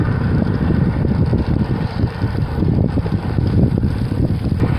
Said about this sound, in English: Nothing but the sound of the wind in your ears.